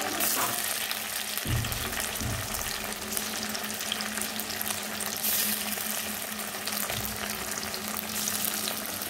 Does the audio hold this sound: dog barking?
no